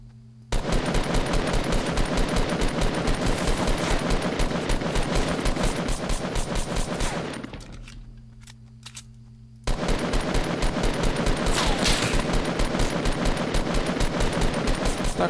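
Rapid automatic gunfire in Fortnite: Battle Royale rattles continuously and loudly, pauses briefly for a couple of seconds, then resumes in another sustained burst.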